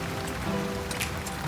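Steady rain falls outdoors during a rainy-day tandoori chicken cookout, a dense continuous patter with a few louder drops splashing close by.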